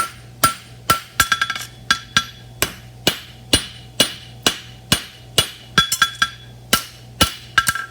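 Sharp hammer blows ring on metal as a collar is shaped for a roadster, about two strikes a second in an uneven rhythm, some landing as quick bouncing double or triple taps, close and loud with no talking.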